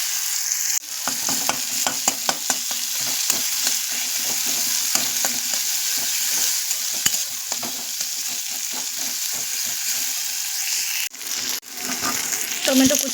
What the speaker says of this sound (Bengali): কড়াইয়ে তেল গরম হয়ে গেছে, পেঁয়াজ কুচি দিয়ে দেবো।